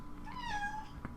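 A single drawn-out meow from a pet cat sounds close by in a quiet indoor room, rising and then falling, with a brief soft tap just afterward.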